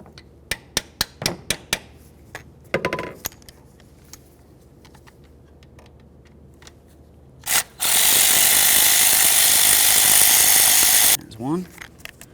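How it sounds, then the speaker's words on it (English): Valve cover mounting bolts being backed out on a 2007-2017 Ford Expedition, with scattered metallic clicks and taps, then a loud sustained burst of a power tool for about three seconds, followed by a few more clinks. "then we're going to remove our 8 mounting bolts for our valve cover"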